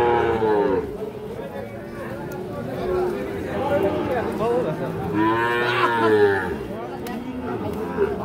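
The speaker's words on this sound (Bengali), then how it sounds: "এই পাশে আমরা দেখছি আরো একটা বেশ সুন্দর সাইজের শাহিওয়াল ষাঁড় বাছুর" A Sahiwal bull calf, about five to six months old, lows repeatedly in long drawn moos at a busy village cattle market in Ambari, with crowd chatter and nearby voices running underneath throughout.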